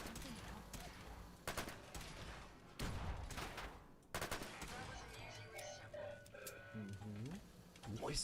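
Gunfire from a gun in Fallout 4, several sharp bursts of shots in the first half amid game noise, with a voice talking over it later.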